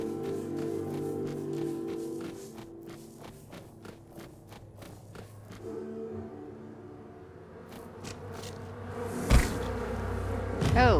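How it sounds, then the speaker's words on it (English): Bees buzzing in the game Tainted Grail, a steady droning hum running through the scene with a louder swell near the end, under game music and effects. "Oh, bees."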